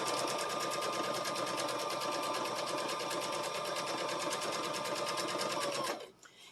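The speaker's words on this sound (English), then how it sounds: "Then you're going to sew them on the outside edge," A sewing machine stitching quilt pieces along their outside edge, running at a steady fast whirring pace close by for about six seconds before stopping abruptly, with no talking.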